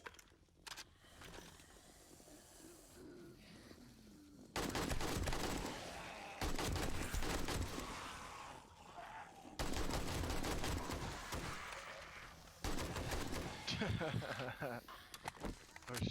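Machine gun fire in the video game Star Trek Judgement Rites, dense sustained bursts in several long stretches separated by brief gaps, loud and close, with a voice talking over the quieter start.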